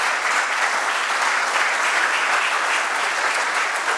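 Dense, continuous audience applause at a book launch for a work on artificial intelligence serving humanity, steady and fairly loud for the whole stretch without pauses.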